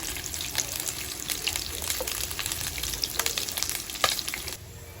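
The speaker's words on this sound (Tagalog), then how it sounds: "Dapat talaga na ganito muna mag-toast ang ating taba na pork." Pork fat frying in a pan during home dinner cooking: a steady, close crackling sizzle with scattered louder pops, continuous throughout and cutting off abruptly near the end.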